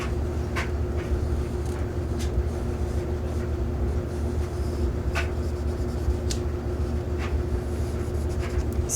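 Sharpie marker drawing on paper laid over a placemat, heard as a series of short scratchy strokes close to the microphone over a steady low background hum.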